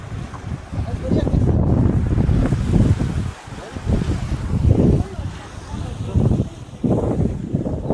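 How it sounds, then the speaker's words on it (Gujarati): Waves surge and wash in repeated bursts, loud and close, mixed with gusty wind buffeting the microphone. "દરિયાના મોજા જો"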